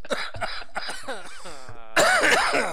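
A man coughs several times in quick, harsh bursts with some throat clearing, close and loud, ending in a stronger rough fit.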